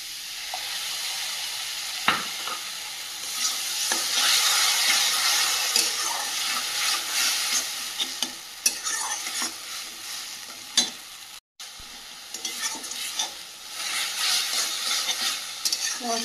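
Masala cooked down with tomato paste after ginger and garlic, for a katla kalia, fries in a pan with a steady hiss, frequent stirring scrapes, and a momentary dropout partway through.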